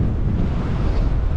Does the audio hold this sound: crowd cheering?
no